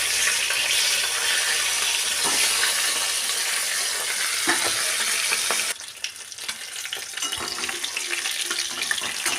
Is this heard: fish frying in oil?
yes